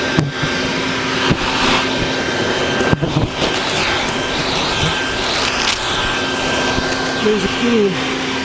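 A vacuum cleaner runs steadily while sucking up a bee nest, a continuous loud whirring drone with occasional knocks and rattles, and a voice talking over it.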